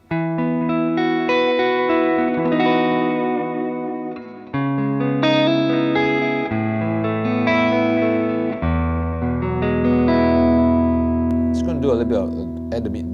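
Electric guitar on the neck pickup played through a Valeton GP5 with tube delay and hall reverb, sustained chords and single notes ringing with echoing tails, a brief scratchy strum near the end.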